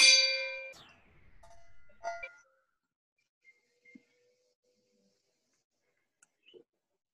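A single bell is struck once at a school end-of-year show and rings out bright and clear, fading over a couple of seconds before a second, fainter strike and then near silence.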